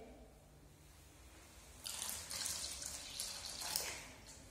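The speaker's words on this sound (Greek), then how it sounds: "Νεράκι." Water is poured into a bucket of wall paint during room painting, a faint splashing stream that starts partway through and runs for a few seconds over a quiet room, with no voices.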